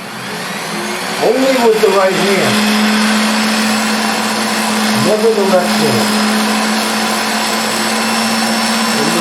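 A bassoon reed sanding machine steadily whirs as sandpaper grinds reed cane, with a constant hum and a couple of swelling scraping passes while a person talks over it.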